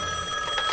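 A telephone rings in an animated children's cartoon, a brief, steady electronic trill heard alone.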